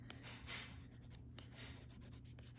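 A colored pencil colors on paper while shading water around waterlilies in a Monet-style drawing, giving quiet, close scratchy strokes in an even back-and-forth rhythm.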